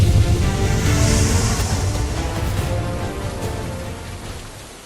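A storm roars with heavy rain and rumbling, a dense continuous wash of noise that is loud at first and gradually eases, with no speech.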